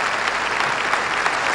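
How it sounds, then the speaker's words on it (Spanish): Applause from legislators and the public at the 2005 presidential inauguration of Tabaré Vázquez in Uruguay's General Assembly, a steady dense clapping from a large crowd, continuous and fairly loud. "recibidos bajo un aplauso por parte de los legisladores y público presente"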